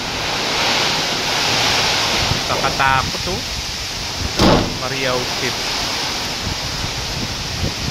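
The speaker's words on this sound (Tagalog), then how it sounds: "lalong lumakas na po mga kabayan ng hangin. Lumakas po pati ulan." Strong typhoon wind with heavy rain roars as a constant broadband wash throughout, with short bursts of gusting, while a person speaks briefly over it.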